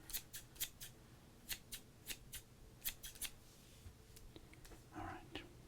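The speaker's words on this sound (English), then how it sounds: "one card must be sacrificed to the scissors" Repeated crisp snips of scissors cutting through a 1995 trading card, about a dozen sharp cuts at an uneven pace, close and quiet.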